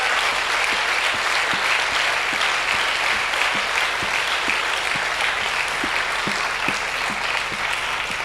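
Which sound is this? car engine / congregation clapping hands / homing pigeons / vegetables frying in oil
congregation clapping hands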